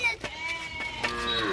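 Cattle low faintly on a village farm in dry summer, a few drawn-out moos heard at a distance amid quiet outdoor background sound.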